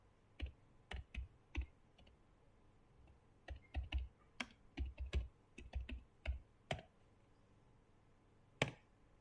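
Keys tapped on a computer keyboard while entering network switch configuration commands, irregular bursts of close, crisp clicks with short pauses between, alone in a quiet room.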